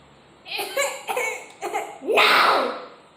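A person coughs a few times in quick succession, short harsh bursts followed by a longer breathy cough, close and clear with little else around.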